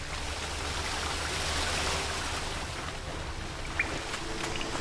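Steady rushing water from a waterfall in The Witcher 3: Blood and Wine, a broad continuous hiss of falling water holding even throughout, with a faint brief chime near the end.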